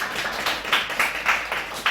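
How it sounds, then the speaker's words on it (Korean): Church congregation clapping in welcome during a Sunday worship service, a rhythmic burst of hand claps with a regular beat, moderately loud and filling the room, no speech. "우리 박수로 환영해 주시기 바랍니다"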